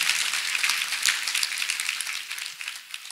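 A church congregation claps together during a joyful worship service, bright crisp handclaps filling the room steadily and close, tapering slightly toward the end.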